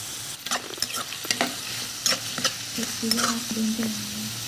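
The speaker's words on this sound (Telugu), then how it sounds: "ఇప్పుడు ఆనియన్స్ వేసుకుందాం చిన్నగా కట్ చేసుకున్నాం కదా" Finely chopped onions with turmeric sizzling in hot oil for an ivy gourd fry, stirred with a spoon that clinks and scrapes against the pan in uneven strokes, close and clear with no talk.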